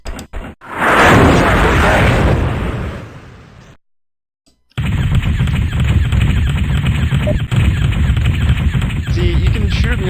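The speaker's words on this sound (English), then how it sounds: "explosion detected" Explosions in the MechWarrior 2 NetMech video game: a loud, sustained blast roar that tails off into a brief silence, followed by dense continuous battle noise with rumbling and crackling bursts.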